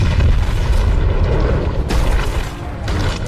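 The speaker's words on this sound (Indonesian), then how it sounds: "dan mobilnya pun langsung meledak" A car blowing up in The Dark Knight, a deep sustained boom with rumbling low-end roar that fills the whole stretch, loud and dense with a second surge of debris noise partway through.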